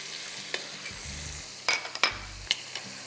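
Black pepper going into a frying chicken curry masala, a low steady sizzle punctuated by sharp spoon clinks and scrapes against the pot, close by.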